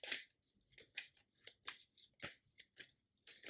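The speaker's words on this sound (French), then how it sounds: "Donc je peux à nouveau remélanger le deck de rencontre" A deck of Marvel Champions encounter cards is riffled and shuffled repeatedly, quick crisp papery bursts in an uneven rhythm, close and quiet with no speech.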